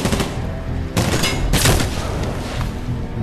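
Dense, continuous bursts of gunfire in the video game Medal of Honor Warfighter, loud rapid shots layered with booming impacts that swell twice, with no talk over them.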